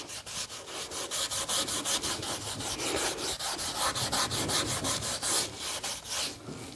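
Red 320-grit Scotch-Brite pad scrubbed hard across a masked surface during Cerakote prep, a close, steady back-and-forth rasping with fast regular strokes and no talking.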